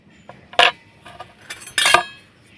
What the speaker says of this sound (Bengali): এই কাঁটা চামচটা দিয়ে এইভাবে করে চেপে দেব।